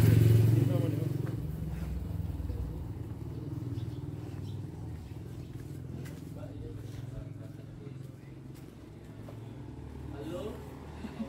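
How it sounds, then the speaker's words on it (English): Motorbikes rumble past on Poppies Lane, a narrow street in Kuta, Bali, engines rising and fading amid street clatter while people talk over them. "Two bikes on Poppies Lane."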